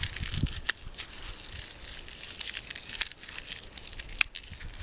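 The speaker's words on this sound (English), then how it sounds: "But if you take it, crumple it up" Dry river birch bark crumpled by hand, close-up crackling and crinkling with sharp snaps and rustles in irregular bursts, no talking.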